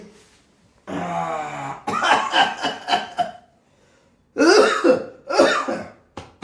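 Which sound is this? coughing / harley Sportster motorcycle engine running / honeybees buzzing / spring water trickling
coughing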